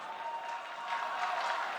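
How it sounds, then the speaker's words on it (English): A live crowd at an esports arena during a CS:GO semifinal between MIBR and Astralis on the Inferno map roars and applauds steadily, a dense wash of clapping and cheering with no single voice standing out. "There's that crowd."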